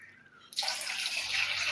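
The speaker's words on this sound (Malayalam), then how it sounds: "ഇതായത് ഗ്ലാസ്സിലേക്ക് ഒഴിക്കുന്നു" Juice poured into a glass: a quiet pause, then a sudden steady splashing stream that keeps running to the end, close and fairly loud.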